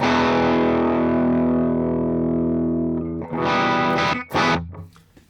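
An electric guitar plays a crunch tone through a Celestion impulse response on the balanced setting. A loud distorted chord rings out and slowly decays, followed by a few sharp picked stabs.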